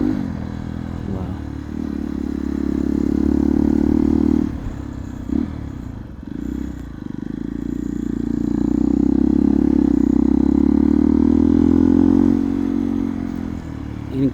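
A Hero XPulse motorcycle rides a trail, its engine note droning steadily and loudly with rising and falling pitch, while clatter and scraping from the rough ground come and go throughout.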